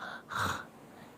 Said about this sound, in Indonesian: sampai tidurnya nyenyak banget, sampai ngorok.